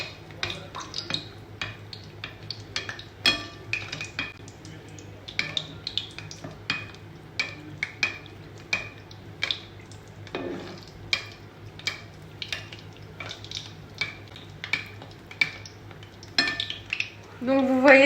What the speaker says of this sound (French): dans mon bain d'huile, je vais venir arroser comme ça, avec une cuillère